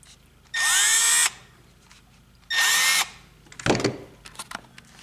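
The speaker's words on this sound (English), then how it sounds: "Now we put in our 4 screws" A power tool drives screws into a Milwaukee LED sticklight in two loud, steady whirring bursts, followed by clattering handling knocks close by.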